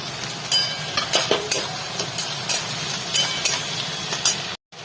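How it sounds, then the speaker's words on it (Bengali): Onions and freshly added tomatoes fry in a pan for a spiced minced egg masala, with a steady sizzle broken by repeated scraping and clinking strokes of a stirring spoon, close up and without talk. "পেঁয়াজটা হালকা ভাজা হয়ে গেছে, এবার আমি টমেটোগুলো দিয়ে দিলাম।"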